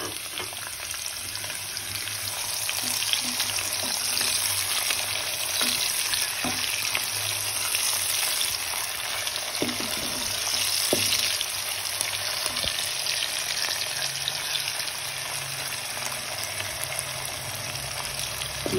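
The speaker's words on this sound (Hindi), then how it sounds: "जब तक मेरा प्याज फ्राई होता है" Chopped onion fries in a pan as the base of a curry masala, a steady close sizzle and crackle with occasional stirring scrapes, continuous throughout.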